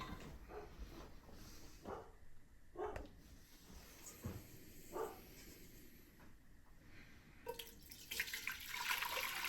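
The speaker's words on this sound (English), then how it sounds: "We are going to strain out our sauce." Braising sauce strained to remove solids, giving soft intermittent liquid pouring and dripping sounds with occasional clinks, rising into a louder splashing pour near the end.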